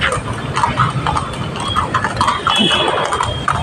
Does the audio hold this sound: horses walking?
yes